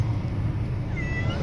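Frightened cats meow from a cage inside a car, faint and brief over a steady low engine rumble.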